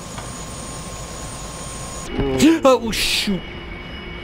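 Steady mechanical whine of a helicopter in a video game, droning evenly before a sudden crash and clatter, with a brief startled exclamation from a player over the noise.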